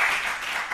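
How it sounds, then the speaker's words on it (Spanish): Brief burst of audience applause for a guest, a dense wash of clapping that is loud at first and eases slightly over less than a second. "Vamos a pedir otro aplauso para ella"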